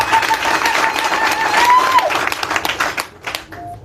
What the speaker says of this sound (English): please a loud clap for all of you